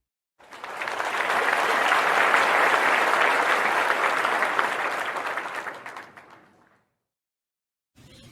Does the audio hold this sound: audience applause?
yes